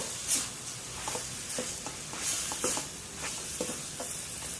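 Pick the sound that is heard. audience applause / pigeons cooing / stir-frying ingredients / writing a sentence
stir-frying ingredients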